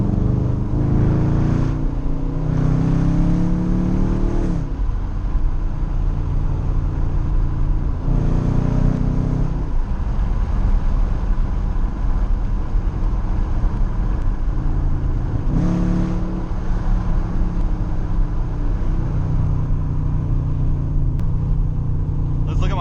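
A loud Dodge Charger rumbles along backroads, its deep engine drone rising in several hard revving pulls and settling to a steady cruise, heard from inside the car with someone talking over it.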